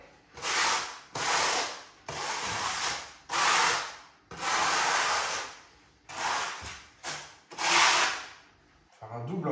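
Tile adhesive being spread for double gluing on floor tile, a series of loud rasping trowel strokes in bursts about a second long with short pauses between.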